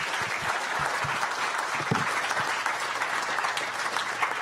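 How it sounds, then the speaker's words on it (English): Panelists get a round of applause from the audience, a continuous, even roar of many hands clapping at moderate distance that holds steady from start to finish. "give them a round of applause, please"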